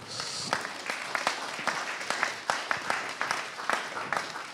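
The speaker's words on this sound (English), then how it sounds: "Come and give yourself a clap." Audience members clap at a talk on mental health, a thin, uneven round of claps with distinct individual hand strikes, fairly soft and somewhat distant.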